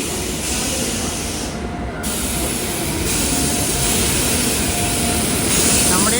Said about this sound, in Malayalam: ഇവിടെ ആലുവയിലേക്ക് KSR Bengaluru Kanyakumari island express ഇതാ വരികയാണ്.